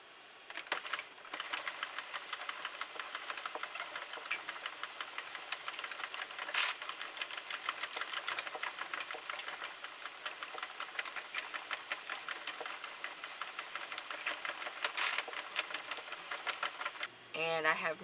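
A Sentro plastic knitting machine is cranked quickly and steadily, knitting velvet yarn, giving a continuous fast clicking and rattling whir that runs for about seventeen seconds with a couple of brief pauses.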